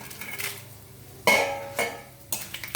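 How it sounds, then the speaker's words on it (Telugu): Spice tempering of cumin, mustard seeds, dried red chillies and curry leaves in a pan, with sharp clinks and scrapes of a spoon against metal coming in a few separate bursts over a faint, quiet sizzle. "సగం వేగింది కాబట్టి ఇప్పుడు ఈ పోపు వేసేస్తున్నాను."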